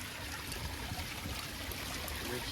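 A waterfall pours steadily into a backyard pond stocked with sturgeon and turtles, a constant soft rush and trickle of water with no break and no voices.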